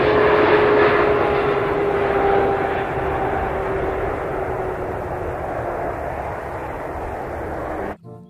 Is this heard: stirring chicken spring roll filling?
no